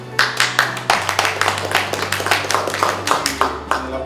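Hands clap in a lecture hall at San Marcos, Peru, welcoming a visiting history professor: a sparse, rhythmic patter of a few distinct, fairly close claps over a steady low hum, with faint speech in the background.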